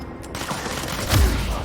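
Enemy rocket launchers fire during combat in the video game Control. One heavy blast and boom rises over a dense, continuous backdrop of game noise.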